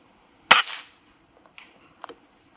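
A PCP air rifle fires one sharp, loud shot outdoors at 100 metres in windy conditions, followed by two faint, short distant knocks that sound like pellet impacts.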